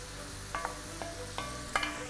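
Meat, potatoes and onions fry in oil in a pan for tas kebab, giving a steady low sizzle with a few brief clinks or stirring knocks spaced through it, close and fairly quiet, no voices.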